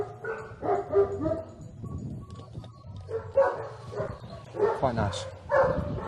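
Cadaver dogs at a dog school trained to find human remains bark and yip in repeated bursts, mixed with whimpers, while people talk nearby throughout.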